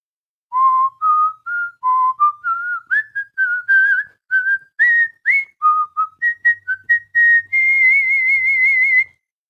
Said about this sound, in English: ever whistled an anime theme before?